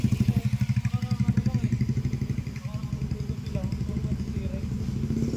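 A Honda Civic with a lit check engine warning and a hard-start, stalling problem runs after starting, its engine thumping in a fast, rhythmic idle chug close by while people talk over it.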